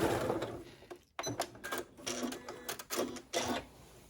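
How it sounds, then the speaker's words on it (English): A sewing machine stitches across a fabric corner of an origami bag in quick mechanical bursts broken by a brief pause, close and fairly quiet, with no talk. "we're just going to stitch right across the corner"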